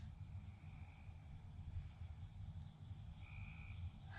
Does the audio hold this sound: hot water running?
no